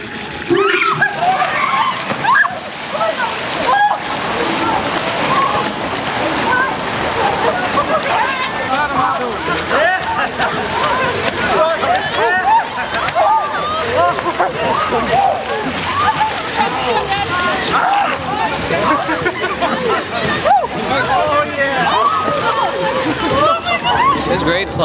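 People jump into cold water at a polar bear plunge, with continuous loud splashing and churning water, crowd shouts and voices throughout.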